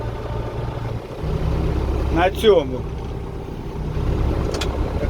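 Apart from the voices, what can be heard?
tractor engine running during wheat sowing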